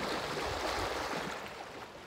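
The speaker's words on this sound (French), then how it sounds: "Je vous laisse respirer pendant un instant avec le son des vagues." Steady wash of sea waves on a shore, a continuous broadband rush that swells slightly and then eases toward the end, heard alone with no voices.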